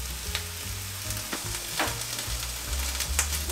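Vegetables and onion fry on medium heat in a steady close sizzle, with scattered soft pops and crackles and a low rumble underneath, continuous and without speech.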